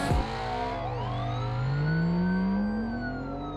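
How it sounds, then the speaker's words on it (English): Ford Mustang peeling out from a green light in BeamNG.Drive, a loud engine rev sweeping upward with a whining tire squeal over a few seconds, close and alone without talk. "When the light turned green, the Mustang driver peeled out anyway."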